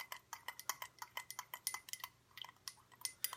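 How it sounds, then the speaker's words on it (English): A spoon stirs an essential oil mixture in a bowl for homemade bath bombs, giving quick, light clinks and scrapes in an uneven rhythm. The sound is close and fairly quiet, and no one speaks. "So I'm just going to stir that up a little bit."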